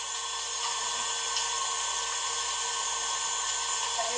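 Electric hand mixer whirring at high speed while beating fuerte avocado for a healthy cheesecake, a steady continuous motor whine with no talk.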